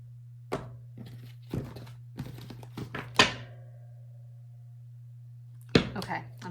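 Several sharp taps and soft slaps of a tarot deck being cut and squared by hand, isolated knocks spaced over a few seconds with a low steady hum beneath and a final pair of card sounds near the end.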